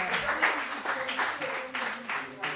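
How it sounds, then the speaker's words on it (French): Seated colloquium attendees applaud the organisers of an urban-studies conference, producing several bursts of clapping that rise and fall while a voice talks over them. "vous pouvez les applaudir."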